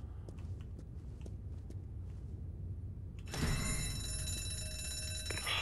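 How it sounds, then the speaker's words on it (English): A loud, continuous electronic alarm bell in a zombie video game suddenly starts ringing partway through, after a quieter stretch of ambient game noise, and keeps blaring steadily to the end. "it was rigged to the alarm"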